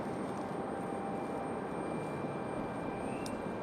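A plane taking off at Raleigh-Durham International Airport gives a steady, broad engine roar that stays loud and even the whole way through, with no voices.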